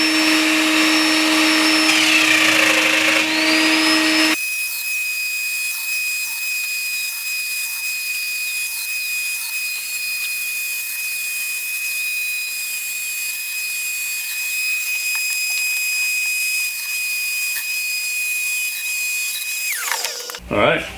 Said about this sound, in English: Let me show you how easy it is to make a mortise with this.